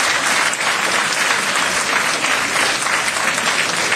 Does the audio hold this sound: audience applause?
yes